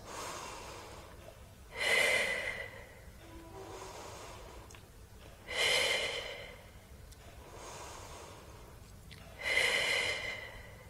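Deep, audible breaths during a Pilates exercise held on the floor: three long, loud exhalations arriving about every four seconds, with softer inhales between them, close and without talk.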